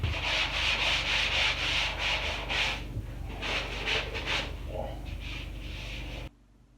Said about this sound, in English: I like to use this angled corner sanding sponge so you can get it in the corners good